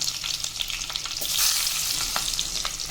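Garlic, fenugreek and green chilies fry in sesame oil, giving a strong continuous crackling sizzle close to the pan, with sharp pops and stirring clatter scattered through it and no talking.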